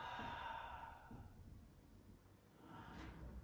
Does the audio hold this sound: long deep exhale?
yes